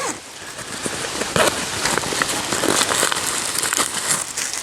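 Hands rummaging in a pouch holding a plastic bag of tea-making supplies, with continuous close crinkling and rustling of plastic.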